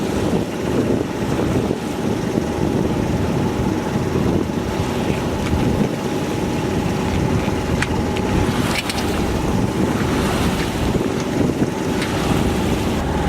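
A Dana 24 sailboat cruises through coastal shipping lanes toward Catalina Island, with steady wind buffeting and water rushing along the hull, continuous and close, no voices.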